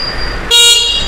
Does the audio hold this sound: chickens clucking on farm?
no